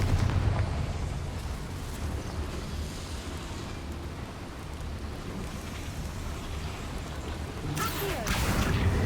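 Confringo blasting spell in Hogwarts Legacy: a loud, rumbling explosion that roars and fades over several seconds, then a second sharp burst near the end.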